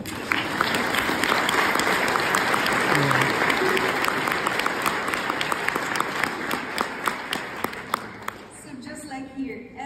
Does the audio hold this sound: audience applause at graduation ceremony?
yes